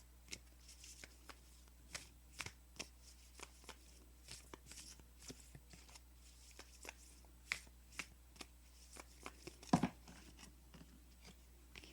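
Tarot cards are shuffled by hand in a quiet room, giving soft, rapid riffling and crisp flicks in steady bursts close up, with a brief louder clack near the end.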